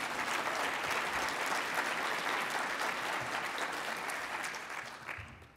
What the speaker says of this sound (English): All the Novi city employees, a round of applause.